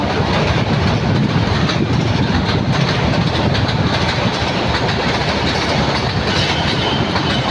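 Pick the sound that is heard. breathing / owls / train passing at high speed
train passing at high speed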